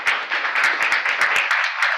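Church congregation claps in a steady, fairly quick rhythm, about a dozen distinct beats over two seconds, moderately loud with a slight hum underneath.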